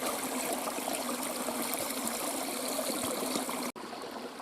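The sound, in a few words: spring water trickling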